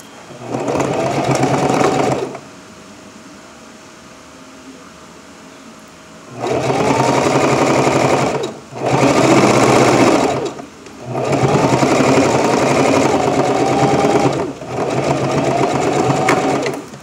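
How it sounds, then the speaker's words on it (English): Sewing machine stitching a folded fabric edge for elastic ear loops, loud rapid buzzing runs in four bursts separated by short quiet pauses, close and without talk. "And then we're going to sew directly on that line."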